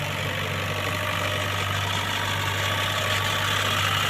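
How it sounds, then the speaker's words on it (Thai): Ford 5030 tractor's four-cylinder engine idling smoothly with the air-conditioning compressor running, a close, steady low hum and drone with a faint whine layered on top. "ที่ดังจะเป็นดังคอม แอร์ นะฮะ ตัวนี้เป็นเครื่องยนต์สี่สูบเครื่อง นิ่ม ๆ ครับ"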